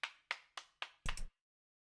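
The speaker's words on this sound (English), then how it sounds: "He started to applaud." Applause sound effect in a visual novel game: four single, crisp hand claps at an even beat followed by a slightly longer, rougher clap burst, then silence.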